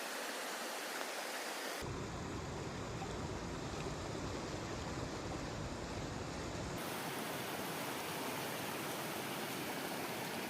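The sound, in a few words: water being poured to wash a bike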